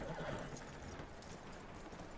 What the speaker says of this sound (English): I'm gonna pat the horse. Alright, boy.